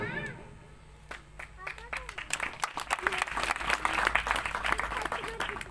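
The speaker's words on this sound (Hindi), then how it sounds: "इन चार पंक्तियों के बाद तालियों का शोर पूरी पंडाल में दिखाई दे" Audience applause fills a tent at a poetry event, starting as scattered claps and building into sustained clapping that grows louder toward the end, with a voice speaking briefly at the start.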